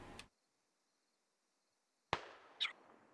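A single sharp gunshot cracks in a tactical squad shooter game, loud and abrupt, followed by a short decaying echo and a brief higher-pitched crack moments later, with silence before it.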